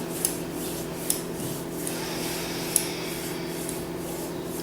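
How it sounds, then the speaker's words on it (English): Palms rubbed together produce a soft, steady swishing friction, close and quiet, with a few faint light taps scattered through it and no talking. "Maybe rub both palms together."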